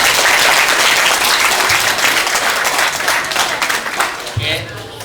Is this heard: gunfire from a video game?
no